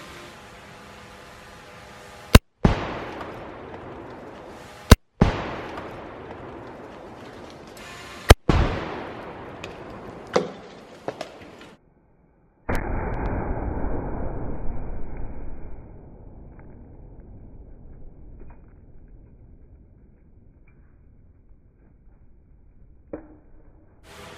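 A Remington 770 rifle chambered in 7mm Remington Magnum fires during a penetration test. Three loud, sharp shots ring out with decaying tails, followed by a burst of noise and then quieter rustling.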